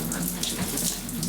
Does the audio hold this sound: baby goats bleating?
no